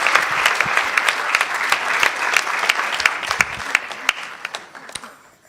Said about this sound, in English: let's give our keynote speaker another wonderful round of applause